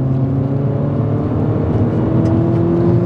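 A turbocharged Mini Cooper JCW GP2 pulls hard uphill on a B-road, heard as a steady, loud engine drone with strong low tones and a rising whine from inside the car.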